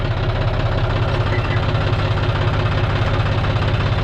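A John Deere 5045D tractor engine runs loud and close in a rice field, giving a steady heavy diesel drone with a rhythmic knocking throb throughout and no talking.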